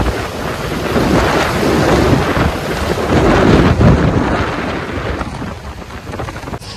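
Heavy rain and gusting wind roar past during a motorcycle ride on a KTM 390 Adventure between Kolkata and Rongpo, loud and rumbling with wind buffeting the microphone.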